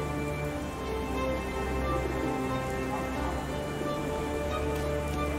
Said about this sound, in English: People don't tend to come out for flowers when it rains.